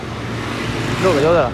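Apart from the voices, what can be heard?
road traffic noise at evening rush hour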